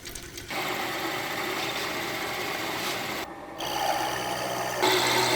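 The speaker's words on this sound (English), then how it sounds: "That's why we do hand crank sewing machines." A hand-crank sewing machine runs steadily and close by, its needle mechanism whirring in a continuous mechanical chatter that briefly drops out and then resumes slightly louder.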